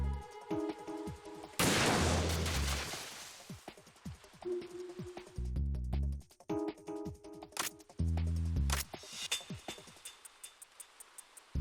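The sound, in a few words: gunfire, from video game Metal Gear Solid 2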